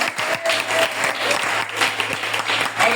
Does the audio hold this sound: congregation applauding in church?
yes